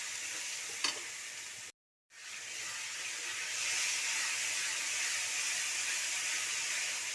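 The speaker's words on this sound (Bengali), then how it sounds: "এরপরে মশলাটাকে আবারও ভালো করে ভেজে নেব।" Ground spices — cumin, coriander, Kashmiri chili powder and turmeric — frying in oil in a pan, a steady close broadband sizzle and hiss that cuts out briefly after a quick stir clink, then resumes evenly.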